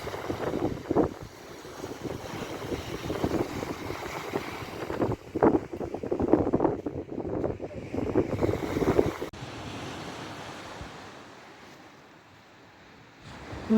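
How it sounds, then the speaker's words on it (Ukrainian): Black Sea waves wash gently onto the shore at Odesa's 16th Fontan in repeated soft surges, mixed with a steady hiss of wind against the microphone, then quieting toward the end. "Хвильки одна одну нас доганяють."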